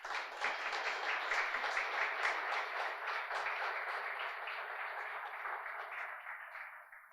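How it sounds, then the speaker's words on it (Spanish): Sustained applause from an audience at a panel on social cohesion and equity, honoring health workers; steady, dense clapping at moderate volume that holds for several seconds and then begins to thin and fade at the end. "queremos aprovechar esta oportunidad para darle un aplauso al talento humano en salud"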